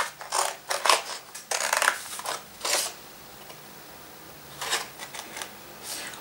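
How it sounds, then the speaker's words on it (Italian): Ordinary scissors snip through a paper plate in a series of crisp, close cutting bursts, a cluster early on and a few more after a quiet gap, with no talk. "Prendiamo adesso un secondo piatto e con le forbici normali tagliamone"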